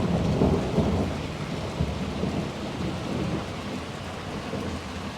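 Heavy stormy rain pours steadily over a village home on a rainy night, with low rolling thunder rumbling through the downpour, loud and continuous with no voices.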